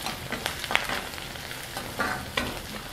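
Samosa filling with curry leaves and turmeric sizzles steadily in a hot pan while a spoon stirs it with soft scraping bursts; no one speaks.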